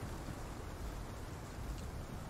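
Steady rain falls in the video game Path of Titans, a soft, even hiss of drops that holds at the same level the whole time, with no voices over it.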